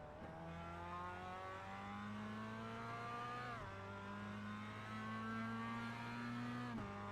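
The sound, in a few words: Mazda MX5 race car driving in iRacing video game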